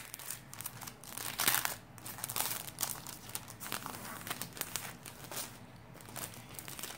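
Kraft paper packaging from a sticker shop crinkles and rustles as it is handled, with irregular, bursty crackles over several seconds at close range and no speech.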